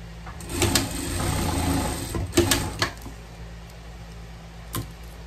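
A sewing machine stitches the shoulder seams of a dress in short bursts of rapid mechanical whirring, with a few separate clicks and pauses between runs, heard close up against a faint steady background hum.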